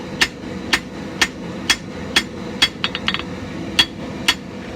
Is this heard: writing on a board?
no